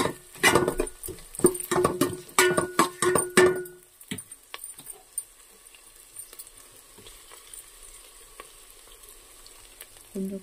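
Sliced onions sizzle and get stirred in a hot pan with ginger garlic paste for mushroom biryani, loud scraping bursts for about four seconds, then a quieter steady frying hiss.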